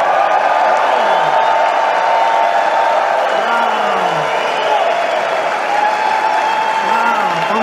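A large crowd cheers, whoops and applauds loudly and without a break, reacting as impeachment vote results for Donald Trump come in.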